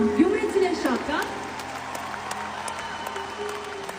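A concert audience in Armenia applauds, a burst of clapping and crowd noise that is loudest at the start and gradually fades, with voices mixed in.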